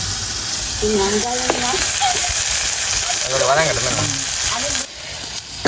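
Ingredients for an anchovy fish curry sauté in a pan with a loud, continuous close sizzle and occasional stirring scrapes, while a person talks over the cooking.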